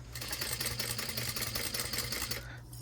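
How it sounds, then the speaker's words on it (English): Sewing machine stitching the corner of a fabric wallet, running in a steady fast rhythm for over two seconds, close and loud, then stopping abruptly as the needle is left down to pivot. "you wanna make sure that when you get to the corner, the needle's all the way down and you pivot."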